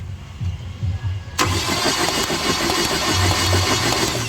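A 2008 Chevrolet Captiva diesel engine cranks after a quiet start, then fires and settles into a loud, steady, rumbling idle close by.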